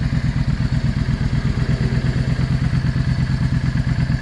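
A Yamaha V Star 650 motorcycle engine idles while warming up, a steady close, rhythmic low thumping with light mechanical clatter and no pauses.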